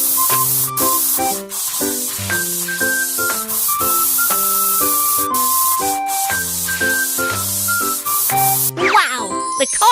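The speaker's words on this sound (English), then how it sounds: "Then spray the steel plate with paint." Paint is sprayed onto a car's steel plate in a cartoon car repair game, a steady, bright hiss running over cheerful tinkling game music and ending in a sparkly flourish.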